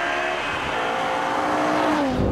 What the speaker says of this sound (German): Der Antritt von dieser M3-M5-Komborette ist natürlich absoluter Wahnsinn